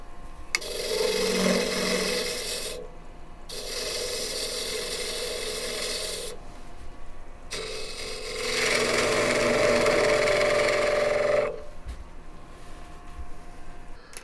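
Wood lathe turning the corners off a ball box blank, with a tool cutting in repeated rasping, scraping bursts of several seconds separated by short pauses, close and fairly loud with no talking.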